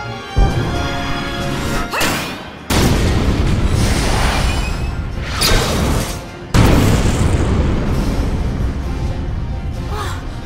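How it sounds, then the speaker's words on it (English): A tank shell fired and deflected in a battle scene from the Valkyria Chronicles video game: a deep, loud boom with whooshing, crashing bursts, repeated impacts around two, four and six seconds over a dense, sustained roar. "She deflected a tank shell."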